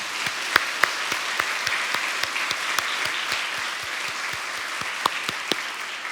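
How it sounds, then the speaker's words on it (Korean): A church congregation claps steadily throughout, a dense spread of many hands with a few sharper individual claps standing out close by. "우리 하나님 앞에 박수 한번 해야지."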